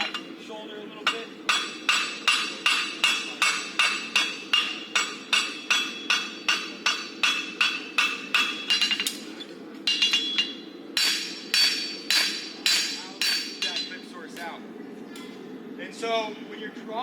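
Hot steel is hammered on an anvil while forging hot-fitting tongs, giving a steady run of sharp ringing blows about two per second, close and loud, with a brief pause and then more strikes.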